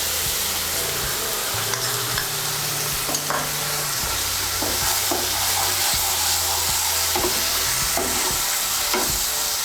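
A spice paste of turmeric, cumin, coriander and chili sizzles and fries in hot oil while being stirred, giving a steady, close hiss with intermittent scraping and stirring knocks throughout.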